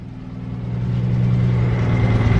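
An idling Nissan R33 Skyline engine, a steady close low hum that swells slightly as it settles, with a faint rhythmic tick from the lifters riding on top.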